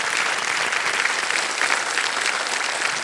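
A studio audience on the KBC quiz show breaks into sustained applause, a dense, even clapping from many hands that holds steady throughout with no voices above it.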